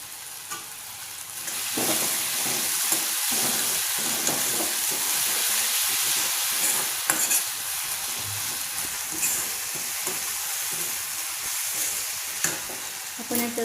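Tomatoes with salt cooking in a pan for a spinach dish, a continuous close sizzle with a spoon scraping and stirring at intervals.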